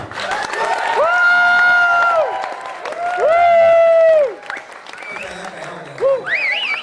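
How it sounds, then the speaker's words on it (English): A wedding reception crowd applauds and cheers for the bride's father, with strong whoops and shouted voices rising over the clapping in two loud surges before it thins out. "give a big round of applause to our bride's father tonight"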